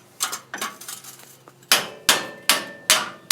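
A hammer strikes a chisel to drive out the front u-joint on a 2007 Dodge Ram 2500 4x4, landing sharp metallic blows in an uneven rhythm that grow louder and more regular, close by.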